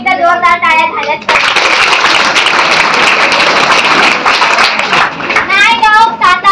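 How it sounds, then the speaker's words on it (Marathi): A loud burst of clapping applause at a Savitribai Phule birth anniversary and women's liberation day event, lasting several seconds between spoken voices. "त्या विधीसाठी एकदा जोरदार टाळ्या झाल्यात"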